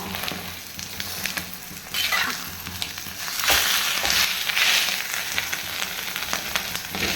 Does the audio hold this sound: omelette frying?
yes